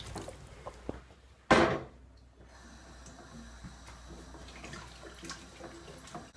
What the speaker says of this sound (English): I add enough water just to cover the veg.